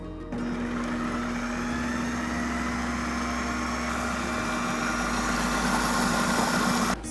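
A food processor blends a sauce of olive oil, Calabrian chili oil and lemon juice, a loud, continuous motor whir with rattling contents that runs steadily without pause.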